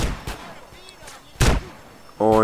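Sharp bursts of GTA San Andreas gunfire crack out, a couple of loud single shots separated by quieter gaps, ending in a brief buzzing tone.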